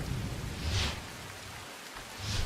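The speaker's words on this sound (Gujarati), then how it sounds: "ગાજવીજ સાથે સુરતમાં વરસાદ પડી રહ્યો છે।" Heavy rain falls across Surat during a thunderstorm, a steady hiss of downpour with low rumbling swells of thunder rising and fading, fairly faint and continuous with no voices.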